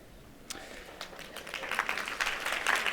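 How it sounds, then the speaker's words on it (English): At a functional medicine conference, audience applause starts faintly and swells over a few seconds into a fuller patter of clapping, heard from a distance and fairly quiet. "Applause just for that."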